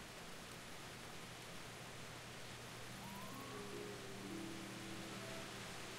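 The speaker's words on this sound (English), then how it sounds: "Here comes the rain again." Rain falls as a steady, even hiss with no break, heard alone without talk, with faint tonal sounds rising briefly in the background partway through.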